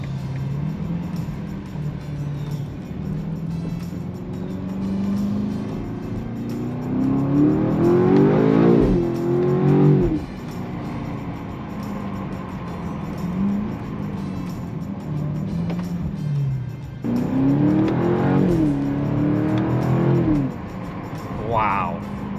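A BMW X5M performance SUV accelerates hard in two loud surges, its engine note climbing in pitch and then dropping off, with a quieter engine drone between them and talk heard over it.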